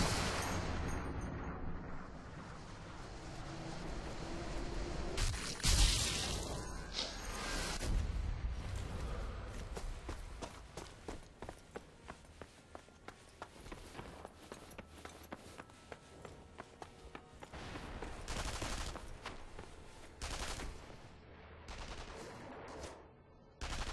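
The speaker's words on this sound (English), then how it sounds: "I'm trying to figure out where that bullet's coming from" Gunfire in the WWII sniper video game Sniper Elite V2, with repeated sharp shots and bursts, some louder and close, set against rumbling in-game ambience and no talk.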